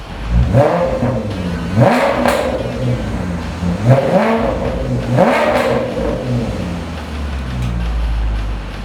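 A 2006 Maserati Quattroporte Sport GT engine revs up sharply several times in a row, each rising roar dropping back to a rumbling idle between blips, loud and close.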